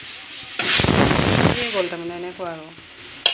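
Tender leafy greens frying in a pan give a loud, steady sizzle for about a second, then someone speaks over a softer sizzle.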